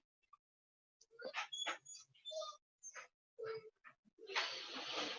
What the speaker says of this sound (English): the whining you hear is my poor dog crying in the next room